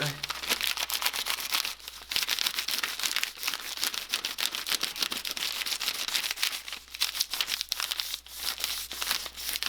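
Steady dry scratching and rustling of two crayons rubbed back and forth over paper laid on a pine cone, close up and continuous.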